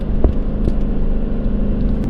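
A 2009 Dodge Challenger SRT8 V8 rumbles in a deep, steady idle close by, with a couple of brief knocks near the start and no talking.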